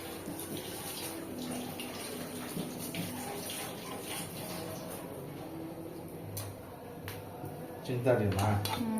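Ingredients are washed under running water while cooking, a soft, steady splash and trickle with light clinks of dishes, under people talking.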